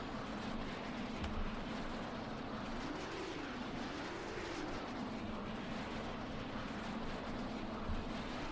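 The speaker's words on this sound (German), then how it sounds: "Das ist mal ein dickes Flugzeug." A big airplane's engine drones steadily in the open-world game Saints Row: The Third, a constant loud roar with a slow rise and fall in pitch and no talking over it.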